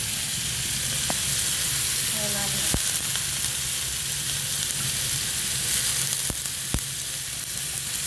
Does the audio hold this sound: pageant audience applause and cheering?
no